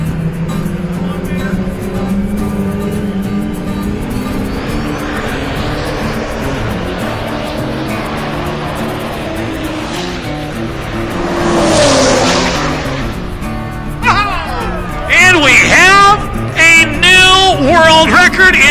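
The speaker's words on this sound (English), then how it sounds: "as he gets ready to roll a little bit of coal, boil a little bit of black smoke on the Castro Raceway" A diesel race vehicle at Castro Raceway drag strip, throwing black smoke: a loud, sustained engine roar builds and swells, then a commentator talks over the continuing engine noise.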